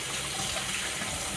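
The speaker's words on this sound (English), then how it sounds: "And then I'm gonna run the hot water" Hot water running from a tap into a sink, a steady, close hiss of flowing water with no pauses or talking.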